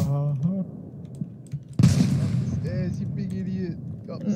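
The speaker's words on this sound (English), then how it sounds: "Oh, shit, a grenade." A single sharp grenade blast in a Vietnam War video game, a sudden loud burst mid-clip that fades into a short rumble while voices talk before and after.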